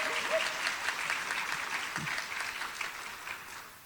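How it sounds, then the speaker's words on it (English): Audience applause for a teacher at a school district Teacher of the Year ceremony: steady, dense clapping throughout, gradually thinning toward the end, with a few faint voices mixed in. "Let's give a round of applause for this dedicated and passionate teacher, Miss Kristin Corks"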